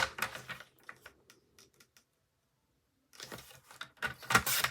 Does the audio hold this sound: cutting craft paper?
yes